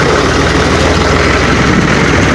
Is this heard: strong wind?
no